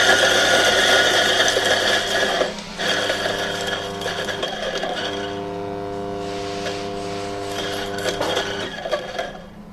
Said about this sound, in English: you need to turn on the motor and ground every coffee bean you have in the hopper